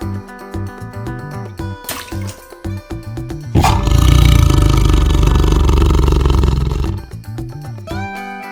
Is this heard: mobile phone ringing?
no